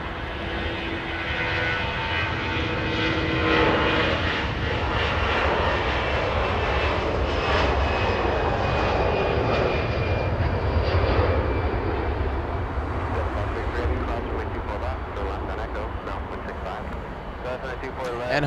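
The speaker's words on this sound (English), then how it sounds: "We have one getting a move on Delta 661 flying to Dallas Fort Worth." Delta 661, a 29-year-old jet, departs Los Angeles International for Dallas Fort Worth with a loud, continuous engine roar and whine that peaks midway, then eases as it moves off, with talk over it.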